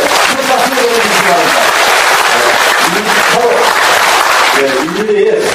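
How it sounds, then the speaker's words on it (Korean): An audience at a Korean veterans' gathering over Vietnam War combat pay claps loudly and steadily, with voices calling out and mixing into the dense, unbroken applause. "큰 박수를 보내주시기"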